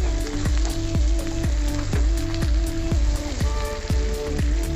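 Tomato and green chilli frying in hot oil for a fish curry give a steady close sizzle, threaded with quick regular pulsing pops and crackles that keep an even rhythm throughout.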